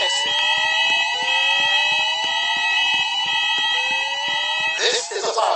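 A fire alarm blares inside Master Mall, a loud continuous electronic tone with layered wavering pitches that holds steady throughout, ending in a brief rougher burst of noise.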